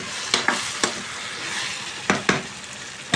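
Fried brinjal curry being stirred in a pan, with a steady sizzle of frying beneath a handful of sharp scraping clicks from the spoon against the pan.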